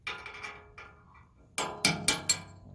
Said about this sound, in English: To use a hammer to pop out the wooden bushings.